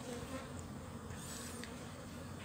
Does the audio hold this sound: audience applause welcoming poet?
no